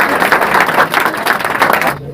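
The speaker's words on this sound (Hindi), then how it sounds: "ज्वाइन के लिए जोरदार ताली होना चाहिए" An audience in a class gathering claps for a student joining them, with dense steady applause of many hands close by for about two seconds before it stops.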